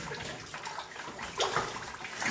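Sloshing and swirling water in a flooded lead mine in North Wales as a person in waders sits down into it, a steady wet churn with louder splashy surges near the end.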